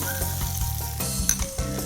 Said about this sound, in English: in that oil, I'm cooking my onion